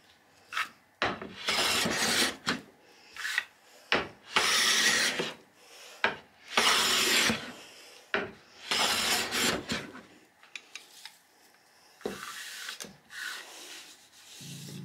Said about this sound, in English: Here is the thick iron in action,